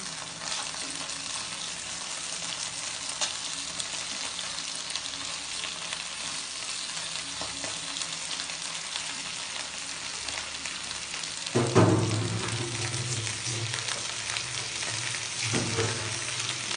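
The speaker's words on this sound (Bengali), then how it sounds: "আমি এক এক করে মাছগুলো কড়াইতে দিয়ে দিচ্ছি" Koi fish frying in hot oil in a wok give a steady, close hiss that runs throughout, swelling into a sharper, louder crackle late on before settling back to the even sizzle.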